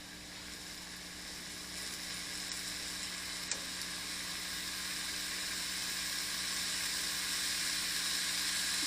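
A steady, bright sizzle of a hamburger patty frying in a hot pan, constant hissing and crackling that slowly grows a little louder, with a single sharp tick midway.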